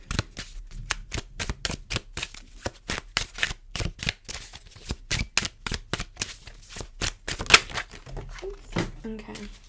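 A deck of tarot cards is shuffled quickly at close range in dense, rapid riffling bursts, with a voice speaking briefly at times.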